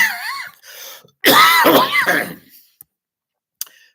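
Someone clears their throat and coughs with a rough, gravelly burst close by, followed by a couple of faint clicks.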